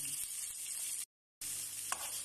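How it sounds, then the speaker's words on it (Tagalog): Onion sizzles in hot oil with a bright, steady hiss close up, cut by a short silent gap, and a single faint tap near the end; nobody talks. "Ay, yung oil, ilagay ko yung sibuyas, ha."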